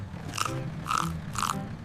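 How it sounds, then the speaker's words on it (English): Three evenly spaced crunching bites into a crisp apple, each a short sharp burst of crunch, fairly close and clear with a soft musical backing underneath, used as a sound effect in a children's song. "The apples on the fruit bus go crunch, crunch, crunch."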